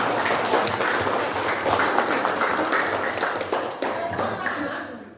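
A classroom full of students applauds a group after its presentation, a dense, steady wash of many hands clapping that thins toward the end.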